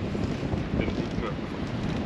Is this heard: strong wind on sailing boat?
yes